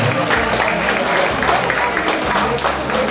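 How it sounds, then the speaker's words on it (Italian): Audience applause at a regional Miss and Mister beauty pageant in Friuli, a steady wash of clapping from a crowd that stays constant and fairly loud, with some speech mixed in underneath. "Facciamo un applauso all'Oppium che ha offerto questa bellissima rosa rossa per le nostre ragazze"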